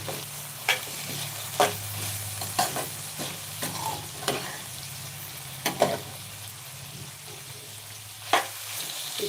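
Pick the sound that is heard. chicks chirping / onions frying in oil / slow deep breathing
onions frying in oil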